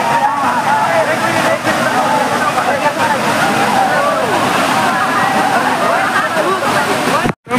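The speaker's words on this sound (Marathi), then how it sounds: "बघू शकता धबधबा कसला आहे खतरनाक" The Barki waterfall near Kolhapur roars during the monsoon, a loud continuous wash of rushing water close by, with people talking over it.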